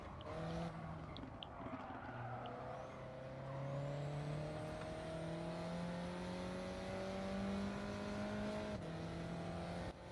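Alpine race car in Gran Turismo 7, engine droning and climbing in pitch as it accelerates through the gears, steady and fairly faint, with a brief tire squeal, no talk.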